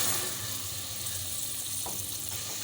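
Ginger garlic paste hits two tablespoons of hot cooking oil in a pan, a loud close hiss of frying that holds steady with a soft stirring scrape near the end, with no talk.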